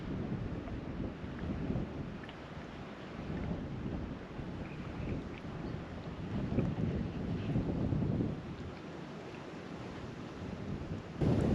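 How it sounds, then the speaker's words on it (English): Wind gusts over open water on a windy day while kayaking upstream near Blue Heart Springs, Idaho, a steady broadband rush with heavier low buffeting surges and microphone wind noise, no talking. "I'm hoping it's just the way the wind is blowing in this little kind of amphitheater almost"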